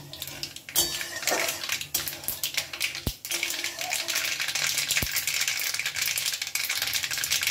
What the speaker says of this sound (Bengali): খুব ভালো করে একটু এটা নেড়ে নেব যতক্ষণ না সর্ষেটা আদা দিয়ে হচ্ছে